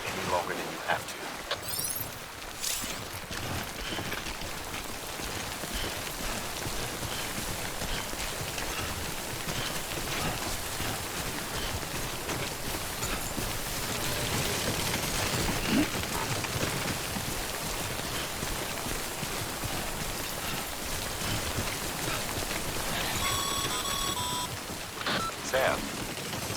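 Steady rain in the game Death Stranding, a dense even hiss of drops pattering on surfaces that runs throughout, with a few electronic beeps near the end.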